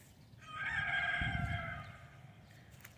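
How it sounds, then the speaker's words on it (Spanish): A rooster crows once near the microphone, a drawn-out call lasting about a second and a half, with faint hen clucking and low farmyard noise around it. "Aquí andan las gallinas."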